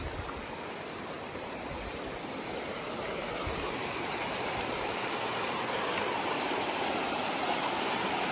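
A mountain stream in Uttarakhand, near Ranikhet, runs down over slippery rocks into a river. The water rushes close, loud and continuous, with no voices.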